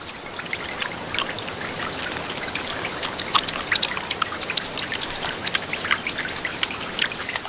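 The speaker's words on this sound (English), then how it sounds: "Outside, the storm ends as quickly as it began." Rain from a storm in the Russian wilderness falls steadily, with close, crisp drops pattering and trickling over a constant wash of pouring water.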